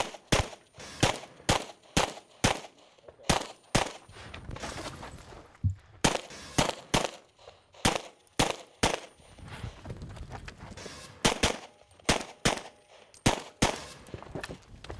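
Pistol shots ring out on a shooting competition stage, about two dozen sharp cracks fired in quick bursts with short pauses between strings, fairly close and loud.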